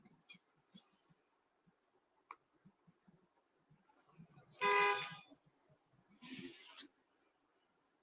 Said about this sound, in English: Who are you honking at?